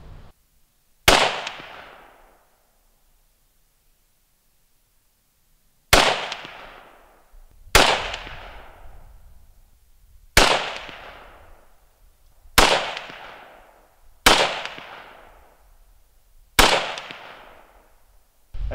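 Seven sharp, loud single gunshots from an RPK rifle chambered in 7.62x39, fired into a bullet containment system, spaced irregularly with a long pause after the first, each followed by a short decaying echo.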